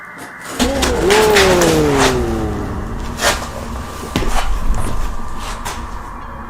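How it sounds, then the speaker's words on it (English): A basement door swings open with a long, loud creaking groan that bends in pitch, followed by softer knocks and rustling in a quiet room. "a Steadicam captures the basement door opening"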